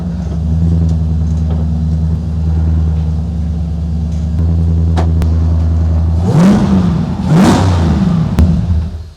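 A Nissan Skyline R33 engine idles with a deep, steady rumble, then is revved twice in sharp, loud bursts near the end, close by with no talking.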